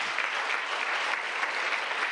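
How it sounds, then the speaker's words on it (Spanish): A church congregation claps steadily during a Spanish-language sermon. The applause is dense and even, holds at a constant level throughout and has no speech over it. "den el aplauso al Señor."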